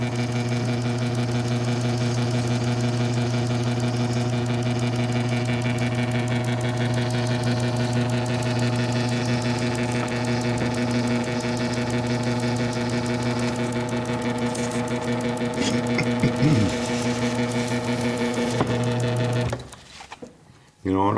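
A jeweler's lathe runs steadily in a workshop where a jadeite bead is being made, giving a continuous motor whine and hum that holds for about nineteen seconds before cutting off, with a brief clatter near the end.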